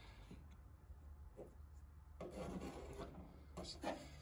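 Bondo body filler is spread and smoothed with a spreader into a hole in a door, a soft close scraping and rubbing that grows busier in the second half, faint and alone.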